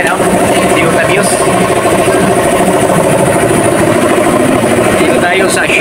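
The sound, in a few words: Toyota Vios dual VVT-i car engine idling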